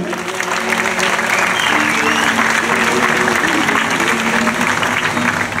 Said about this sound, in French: on applaudit Hefara, s'il vous plaît